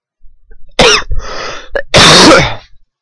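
Several harsh coughs and throat-clearing bursts from a single person, loud and close, in short irregular fits with brief pauses between.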